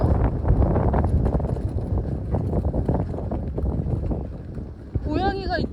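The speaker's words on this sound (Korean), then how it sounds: "바람이 이렇게 많이 불고 이렇게 건조한데" Strong gusts of wind sweep across a lake park in Sejong on a gale-warning day, buffeting the microphone with a constant low roar. Voices can be heard faintly underneath.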